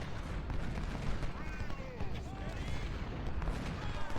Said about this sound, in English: Our cannons are now here and they're starting to do some pretty serious work